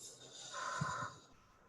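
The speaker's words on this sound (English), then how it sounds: "we're going to take a deep breath in through the nose and out through the mouth" One person draws a deep breath in through the nose and lets it out through the mouth, a short, soft, close airy breath with no talking.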